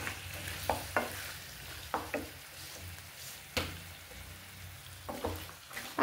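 Chicken fries on a medium flame under a quiet, continuous sizzle, broken by several sharp knocks and scrapes of a utensil against the pan at irregular intervals, close-up and without speech.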